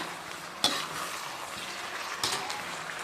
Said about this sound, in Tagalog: Siyempre, kailangan haluin muna.